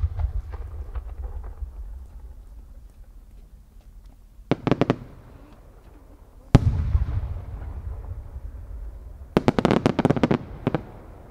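No. 8 senrin-dama firework shells at the Aizu fireworks competition: a low outdoor rumble, then clusters of rapid crackling pops, a single sharp loud bang followed by rumbling, and a final flurry of crackling bursts.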